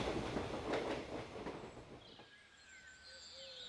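A passing train rumbles and clatters loudly up close, then fades into a distant, quieter roll with faint squealing wheels, used as a sound effect in an audio drama; no speech.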